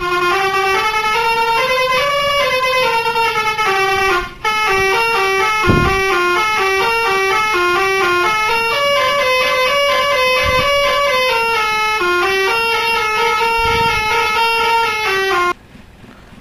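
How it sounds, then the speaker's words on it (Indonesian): Third horn of the STJ Iguazu bus mod in the driving game BUSSID, a loud multi-tone musical horn playing a melodic sequence of shifting chords continuously for about fifteen seconds, alone without talk. "untuk klakson 3"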